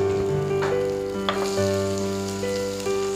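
Onions fry in a pan with a steady crackling sizzle, accompanied by a few soft clinks, while sustained musical tones play prominently throughout.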